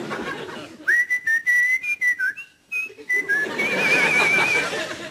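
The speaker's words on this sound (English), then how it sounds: "he was whistling the theme tune to Sports Night." A man whistles a lively theme tune alone, a clear, close melody of short bright phrases and sustained warbling notes.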